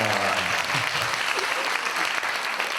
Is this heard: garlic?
no